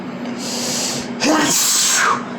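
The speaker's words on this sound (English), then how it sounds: "Got sneeze." A single sharp sneeze bursts out close by against a steady background hiss, followed by a trailing breathy exhale.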